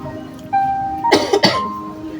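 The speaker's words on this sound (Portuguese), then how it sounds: "eu tô tossindo muito." A woman with the flu coughs twice in quick harsh bursts, fairly close, against a quiet background with a faint tonal hum.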